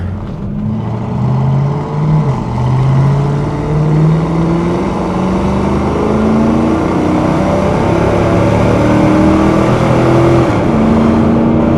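A 2001 Pontiac WS6 with a 5.7 V8 and automatic transmission accelerates under throttle, its engine note climbing steadily, dropping at a gear change and then rising again, heard from inside the car without talk.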